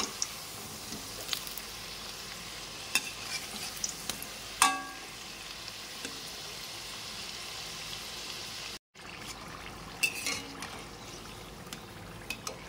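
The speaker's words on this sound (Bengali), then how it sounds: "অনেকটা টাইম ধরে ভেজেছি, সিঙ্গারার মতো আস্তে আস্তে করে ভাজতে হবে।" Singara-like snacks frying slowly in oil over a low gas flame, giving a soft, steady sizzle throughout with occasional light crackles and a utensil touch, heard alone.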